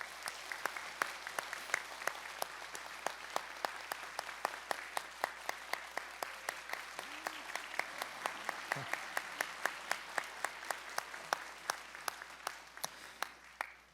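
Sustained applause from a church congregation at a discipleship training certificate ceremony, steady dense clapping with sharp individual claps standing out, continuing evenly throughout.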